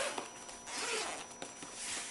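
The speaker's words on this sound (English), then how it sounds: "Comes a nice zipper case like the RX." A zipper is drawn open along a carrying case for a toy drivetrain, a steady rasping run with a few sharper catches, close and fairly quiet with no voices.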